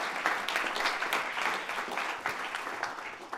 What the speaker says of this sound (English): A big round of applause for Corbin.